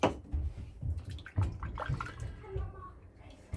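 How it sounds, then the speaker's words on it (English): Water splashes and patters in quick close bursts as it is scooped onto a hand at a sink for wet shaving, with light dripping between. "Then I just kind of get some water on my hand and just kind of rub it around."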